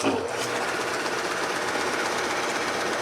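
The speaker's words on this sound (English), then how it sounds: "For the belt sander, very simple." A belt sander runs against a wooden workpiece, giving a steady, loud, dense abrasive whir with a slight rattle that holds evenly throughout, close and without talk.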